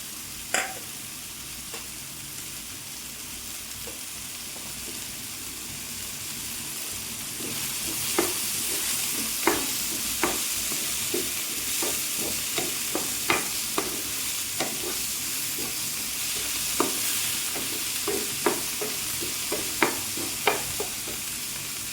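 Egg snack mixture with chopped coriander stir-fried in a pan: a steady close sizzle with repeated sharp spatula scrapes and taps against the pan, growing more frequent toward the end.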